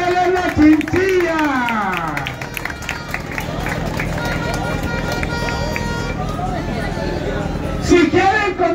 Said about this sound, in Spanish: ¡Aplauso por María Elena Chinchilla!